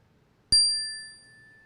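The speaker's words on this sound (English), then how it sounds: "Paulina is going to ding the bell and listen until you can't hear the bell anymore" A single mindfulness bell is struck once, sharp and clear. It rings out with a long, steadily fading tone into quiet.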